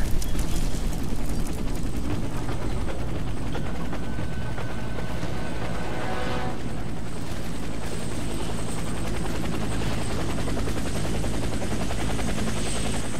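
A helicopter in the PC shooter game Warface thumps steadily with loud, continuous rotor chop and turbine whine, close and unbroken for the whole stretch, with no voices.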